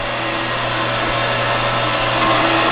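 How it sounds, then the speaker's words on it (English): Coolant pump running on a 7x12 band saw, a steady close mechanical hum with a constant low drone and no variation, alone without talk. "We test the coolant pump."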